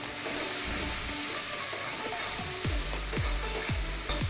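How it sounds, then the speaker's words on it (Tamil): Masala sautéing in oil in a pan for brinjal and capsicum paruppu usili, a continuous moderate sizzle broken by several sharp spoon taps and scrapes against the pan toward the end, with no talking. "பச்சை வாசனை போகிற அளவுக்கு இந்த ஆயிலே வதக்கிடலாம்."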